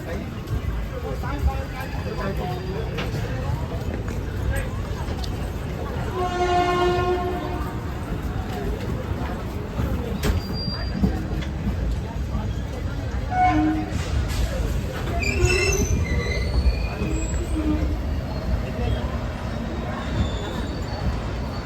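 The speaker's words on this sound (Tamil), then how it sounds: "ட்ரெயினும் அரை மணி நேரம் இந்த ஸ்டேஷனில் நிற்கும்." A train rumbles and clatters at Tirupati railway station while a horn sounds, with people talking throughout amid busy platform noise.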